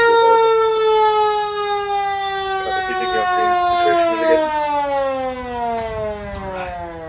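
A fire engine siren winds down in a long, loud, steady wail, pitch slowly falling across the whole stretch, heard up close outdoors with faint background talk beneath it.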